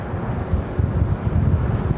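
Extreme wind at LAX airport: a steady low roar with gusty buffeting against the microphone that continues throughout.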